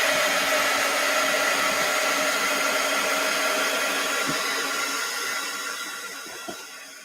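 A handheld dryer blows steadily over wet paint on a palette, a continuous airy whir and hiss that stays close and even before easing slightly toward the end, with no voices.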